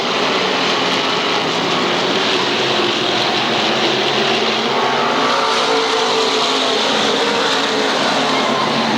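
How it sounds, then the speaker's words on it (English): SK Modified race cars run nose to tail in a pack at Waterford Speedbowl, and their engines make a loud, steady roar that carries through the whole stretch with no voices over it. "Some 14 cars running nose to tail looking for supremacy."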